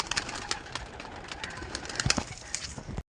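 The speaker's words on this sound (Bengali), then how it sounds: "শাক সবুজ পায়রা প্রচুর দেখলাম এখানে প্রথম এসে" Shak sabuj pigeons in a loft, soft cooing and scattered rustles and wing flutters close by, with a busy murmur of other birds around them.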